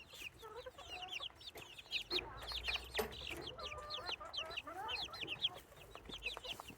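Several chickens cluck and chatter in repeated short calls, fairly close and busy, with no talk over them.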